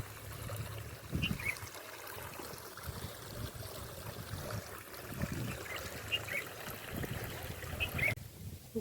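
Water runs in a village stream with a continuous low trickling and gurgling flow, with occasional faint bird calls in the distance.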